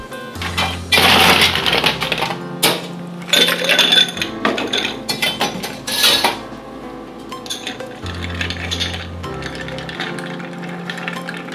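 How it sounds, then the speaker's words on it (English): A bar spoon stirs a tequila old fashioned in a glass, giving bright repeated clinks and rattling of ice, loud and close, in bursts with short pauses. "And then we're just going to stir the drink up"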